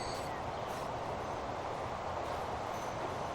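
A train pulling out of a station in the video game Transport Fever, a steady dense rumble of wheels on rail with faint high squeals, continuous and close throughout.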